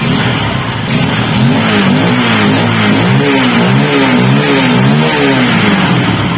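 A Honda XR 150 motorcycle engine with a newly fitted exhaust runs loud and close, its pitch rising and falling through repeated revs over a steady idle.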